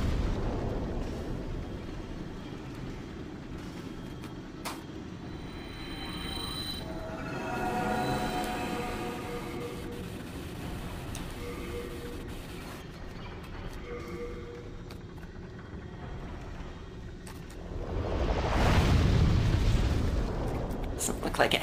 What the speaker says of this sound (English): Oh god, it's an explosion.